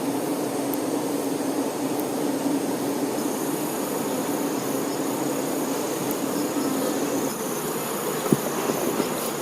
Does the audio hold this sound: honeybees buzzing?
yes